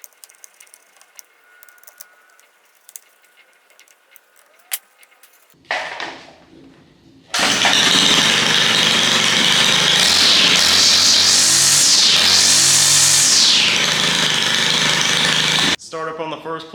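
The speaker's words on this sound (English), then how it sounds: "Start up on the first pull." A small engine fitted with a new primer bulb is pull-started, starts on the first pull, and settles into a loud, steady buzzing idle after some quiet clicks and handling noises, then cuts out near the end.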